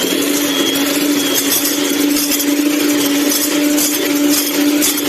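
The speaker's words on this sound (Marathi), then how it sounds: "इलेक्ट्रिक बीटरने आपल्याला हे छान फेटून घ्यायचे आहे." An electric beater whisks egg into butter for pancake batter, a steady high whirring drone running unbroken and close throughout.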